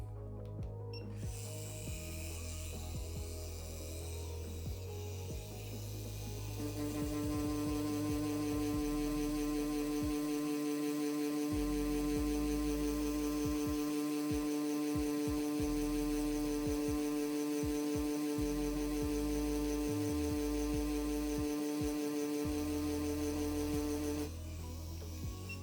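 A tattoo machine turned up to 10 volts runs as a steady, loud electric buzz with strong harmonics, starting lower and stepping up in pitch partway through, with no talk.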